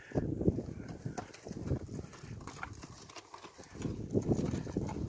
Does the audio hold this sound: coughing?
no